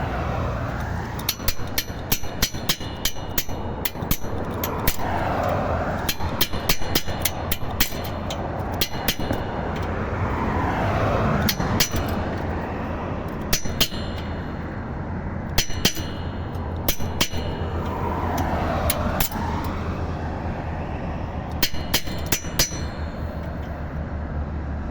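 Repeated metallic strikes on a bicycle part with a makeshift tool in place of a real hammer, sharp clanking hits in irregular bursts and pauses over a steady background hum, close and loud.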